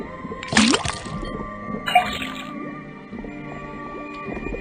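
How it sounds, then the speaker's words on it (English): Water from a tapped faucet splashes and gurgles into a cauldron in the Detective Grimoire game, a brief bubbly pour near the start followed by quieter trickling and faint tonal game sounds. "then tap the faucet"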